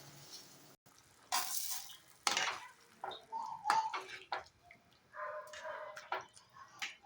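A spoon stirs fish curry in a pot on the stove, giving intermittent scraping and clinking with a light sizzle underneath, close and moderately loud, with no speech.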